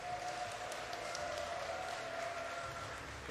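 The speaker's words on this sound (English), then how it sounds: "The crowd loves Big Gabe" Crowd applauding at a StarCraft II esports tournament, the WCS Summer 2019 playoffs, a steady wash of clapping and cheering filling the hall at moderate level, with no words spoken over it.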